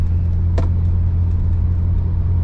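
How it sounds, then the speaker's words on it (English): An old car engine with a nearly straight-through open exhaust pipe and catalytic converter rumbles loudly and close up, a deep steady drone with a brief sharp pop early on. "the loudness that you hear is mostly because this exhaust may as well be a pass-through exhaust"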